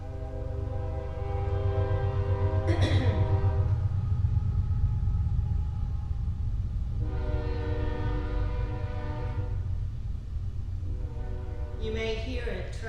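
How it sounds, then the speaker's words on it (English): A train rumbles past at a distance, and two long horn blasts sound over the low, continuous rolling noise. "You may hear a train in the background."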